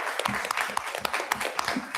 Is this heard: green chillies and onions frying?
no